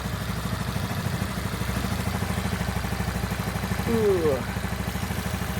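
Motorcycle engine idling steadily with a newly replaced crankcase ventilation hose, a close, even low chug throughout with a brief whistling burst near the end.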